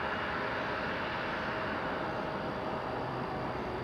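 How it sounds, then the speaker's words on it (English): A Porter airliner takes off at Toronto Pearson Airport, its engines giving a steady, broad roar that stays even and fairly distant throughout, with no talk. "Porter rotating off to Calgary."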